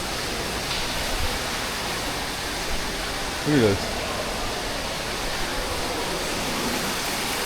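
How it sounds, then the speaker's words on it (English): Steady broadband rush of a small waterfall in Puerto Rico fills the background, with a brief spoken remark partway through. "Nice little waterfall right here."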